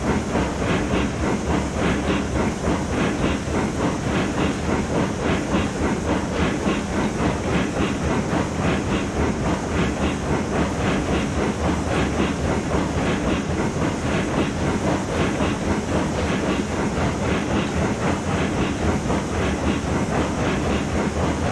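A steam train runs in the video game Railroads Online with a loud, continuous rhythmic chuffing and hiss over clickety-clack wheel noise, steady throughout and alone, without speech.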